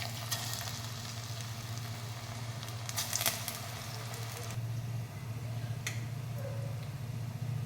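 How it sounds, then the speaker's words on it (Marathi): Green pea pakoras fry in hot oil over a medium flame, giving a steady, close sizzle with a few brief crackles and pops and no talk. "तर हे पकोडे तळून तयार आहेत"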